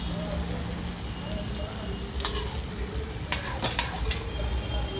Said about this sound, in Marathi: मंद आचेवर मालपोहे करायचे.